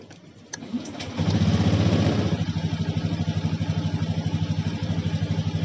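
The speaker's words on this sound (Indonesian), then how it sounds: "Jadi sekarang kita nyalakan motor" A Honda Beat Pop eSP scooter cranks briefly and catches, then settles into a steady, rhythmic close-up idle that continues to the end.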